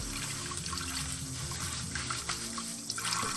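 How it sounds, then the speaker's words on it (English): Rice is rinsed in a stream of running tap water, a steady, close splashing flow that continues unbroken with no talk over it. "I'm going to wash my rice because I'm not stinky."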